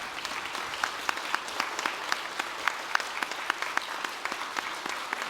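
Church congregation applauding the choir during a sermon service, a sustained patter of many hands clapping with distinct individual claps standing out, moderately distant and even.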